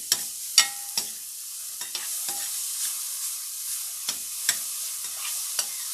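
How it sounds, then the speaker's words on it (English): Onions sizzle gently on an induction burner while a utensil scrapes and taps the pan in a few sharp, scattered clicks over a steady soft hiss. "We're gonna add some onions, and we're gonna get them translucent."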